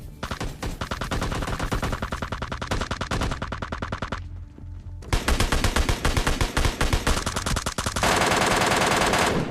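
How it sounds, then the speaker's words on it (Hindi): Rapid automatic gunfire in PUBG Mobile Lite rattles almost nonstop, loud and close, with a brief pause midway before the bursts resume even denser. "वहीं पे मुंह करके गोली चला रहा था"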